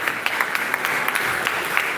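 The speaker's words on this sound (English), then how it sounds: "Keep that applause going." Steady applause from a crowd at a high school graduation in Jamaica, dense overlapping claps with a few sharper individual claps, moderately loud and continuous.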